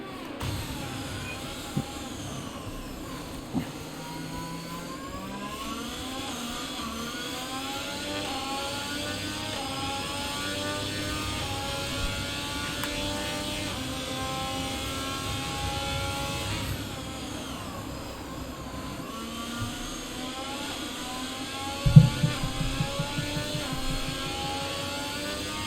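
A Ferrari Formula 1 car heard from on board in the F1 22 racing game at the Miami circuit, its engine howl rising and falling steadily through gear changes for the whole stretch, with a few brief knocks.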